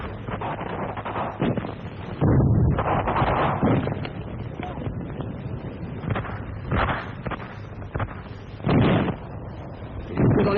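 Rifle and small-arms fire in a Paris street battle of 1944, heard as loud booming bursts and cracks on a muffled old recording, with a voice talking over parts of it.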